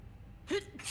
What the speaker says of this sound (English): Your sneeze.